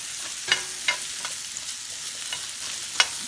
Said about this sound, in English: you take cremini mushrooms, toss those bad boys in there in a hot cast iron pan